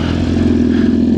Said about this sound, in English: Little exhaust check.